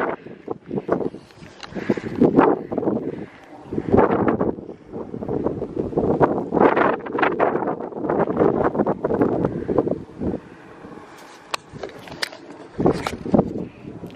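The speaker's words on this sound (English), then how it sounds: "it's really cool and it's really windy" Strong gusts batter the microphone in heavy, uneven bursts, loud low rumbles rising and falling with brief lulls between.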